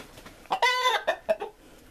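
Older Orloff hens clucking while dust bathing, a few close, short tonal clucks and squawks in a quick uneven cluster over a quiet yard.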